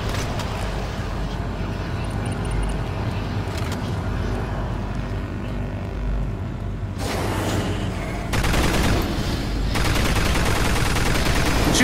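Sustained weapon fire in the video game Doom 3 VR, a dense, loud roar of shots with harsher bursts partway through, rolling on without pause.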